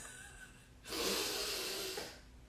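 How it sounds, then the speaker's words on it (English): A burst of heavy, rushing breath lasts about a second and a half after a quiet pause, loud and close, as someone pauses to catch her breath. "let me catch my breath here"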